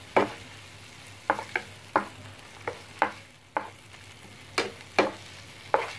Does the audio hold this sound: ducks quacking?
no